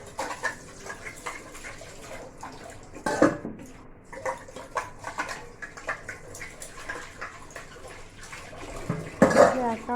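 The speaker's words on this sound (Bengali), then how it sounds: "সকালবেলায় এই বাসনগুলো আগে ধুয়ে পরিষ্কার করলাম" Dishes being washed in the morning: scattered clinks and knocks of pots and utensils mixed with running, splashing water, with two louder clattering bursts.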